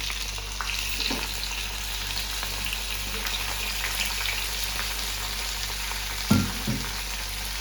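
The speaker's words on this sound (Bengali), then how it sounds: "একটু সুগন্ধ বেরোলে আমি টুকরো করা টমেটোগুলো দিয়ে দিই।" Chopped tomatoes fry for chutney in a pan after chillies, a steady low sizzle continuing throughout with a few scattered clinks of stirring near the end.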